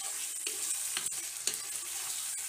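Beef stirred and fried in a pan on a stovetop, with a steady loud sizzle and scraping stirs at a regular pace, no voices over it.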